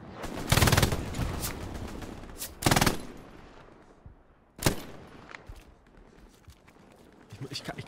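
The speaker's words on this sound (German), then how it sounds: "wir sind auch auf jeden Fall hart unter Beschuss hier" Bursts of automatic gunfire in the World War II shooter Hell Let Loose, three sharp loud volleys separated by quieter stretches with distant shots and movement, voices talking faintly between them.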